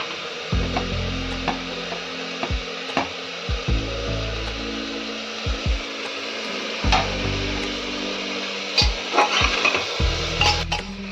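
Beans and carrots being stirred and fried in a pan, with repeated scraping and knocking of a utensil against the pan over a steady sizzle.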